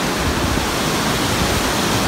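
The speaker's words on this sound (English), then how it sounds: "But there's this waterfall. It goes all the way up" A waterfall on a rocky hiking climb roars loud and close as a steady, dense wash of falling water with no let-up and no voices.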